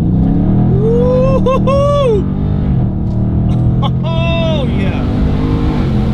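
A Dodge Scat Pack fitted with a pedal box pulls away hard from a stoplight, its engine a loud continuous low roar from inside the cabin while an excited voice whoops and cheers over it.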